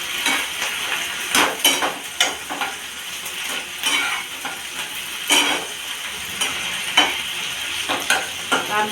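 Pumpkin flower paste cooking down in a pan, stirred to dry out its water, with loud close scraping strokes of a spatula over a steady sizzle in an irregular rhythm.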